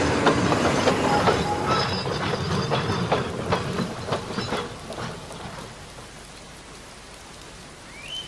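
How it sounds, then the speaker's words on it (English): A diesel locomotive train runs along the rails with a steady rumbling roll and some squealing wheel noise, loud at first and then easing off as it fades toward the end. "Typical diesel engines."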